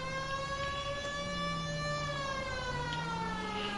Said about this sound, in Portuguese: Eu ativei as sirenes